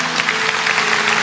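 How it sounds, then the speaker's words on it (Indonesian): Church congregation applauding during an Indonesian Christian sermon, a dense steady wash of clapping filling the short moment with no voices over it. "Kasih tepuk tangan Tuhan."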